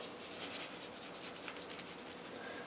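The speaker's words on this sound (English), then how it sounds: "Now we're just going to do a nice light rub on there" Hands lightly rubbing a dry spice rub onto raw pork tenderloin before smoking, a soft steady scratchy friction sound, close and quiet, with no talking.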